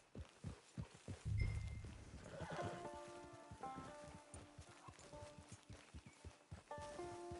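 Hooves clip-clop at a steady walking rhythm from a horse ridden in Red Dead Online, soft and fairly close, with tack jingling and a low rumble partway through, and no talk.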